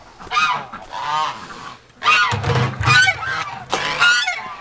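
Geese honk loudly near a pen in a series of harsh, repeated calls, several birds overlapping in bursts close by.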